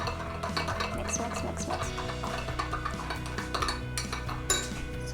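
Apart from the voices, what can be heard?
stirring raw plant-based yogurt mixture in a bowl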